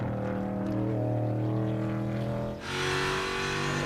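A race car slows toward pit road during road-course practice, smoking its right front tire, with a steady loud engine drone that shifts abruptly partway through into a harsher, hissing roar.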